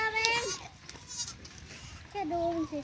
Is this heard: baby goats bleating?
yes